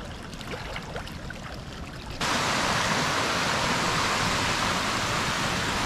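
Waterfall flow at Horseshoe Falls in the Upper Peninsula: a moderate steady rush that surges to a louder, denser roar partway through and then holds constant, with no voices.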